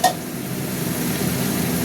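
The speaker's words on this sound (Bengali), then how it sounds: "মশলাটা এখন কষা হতে থাক" Masala spice paste frying in oil, a brief, steady close sizzle after a small clink at the start, heard alone without voices.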